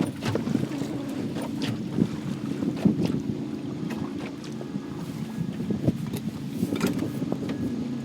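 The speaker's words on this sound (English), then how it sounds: "Man, this wind is picking up." Steady wind buffets a fishing boat out trolling for blue catfish at night, a continuous broadband rush with low rumble and scattered knocks and creaks from the hull, moderately loud with no talking.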